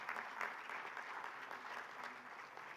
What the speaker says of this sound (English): So I think this team also deserves a lot of big applause